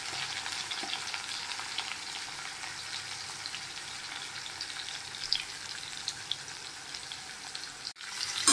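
Mango pieces frying in mustard oil with black mustard seeds, a continuous moderate sizzle with scattered crackles and a few louder pops near the end.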